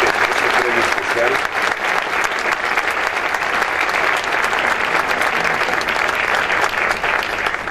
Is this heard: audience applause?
yes